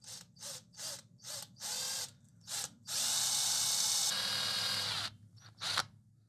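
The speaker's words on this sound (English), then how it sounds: "I'll leave this to cool down, and then we can drill the hole" Power drill boring into a forged metal sea serpent sculpture: several short whirring bursts, then a long sustained grind, close and loud.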